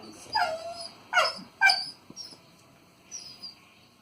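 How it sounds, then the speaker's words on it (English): A dog whines in several short, high-pitched cries, three close together and one more after a pause, close by with no talking. "Whining I'll tolerate, but demand barking I will not."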